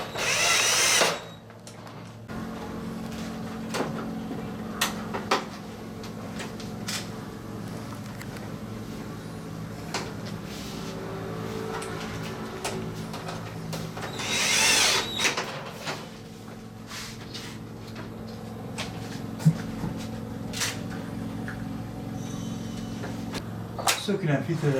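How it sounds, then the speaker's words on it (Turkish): A power screwdriver drives screws while an air conditioner is reassembled during servicing; short whirring bursts recur over a steady low hum, with clicks and knocks of handled parts and someone speaking nearby. "Vidalarını takıyoruz."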